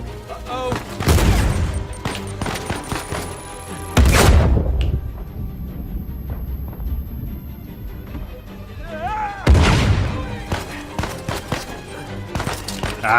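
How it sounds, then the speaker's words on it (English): Heavy rocket launcher explosions in Uncharted 4 combat, three big booming blasts spaced several seconds apart, surrounded by gunfire and debris rumble, with someone talking between impacts. "that's like a rocket launcher"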